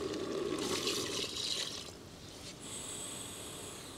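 Water pouring into a cooking container while preparing a mantis shrimp soup, a steady splashing wash that drops to a quieter, thinner trickle partway through, close and alone.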